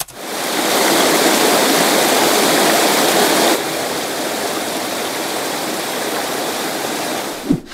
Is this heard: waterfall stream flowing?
yes